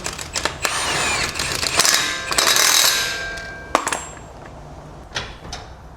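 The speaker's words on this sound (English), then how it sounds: "just going to tighten it up, 32mm socket for the CV" A ratchet with a 32mm socket tightens a CV axle nut during an NP300 Titan swap, giving a close run of quick mechanical clicks in short bursts with brief pauses and no talking.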